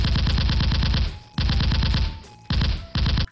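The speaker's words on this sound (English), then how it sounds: "Watch as I fire at them with this military-grade weapon." Rapid automatic gunfire from a military-grade weapon in three close, loud bursts of fast repeated shots, separated by short decaying gaps.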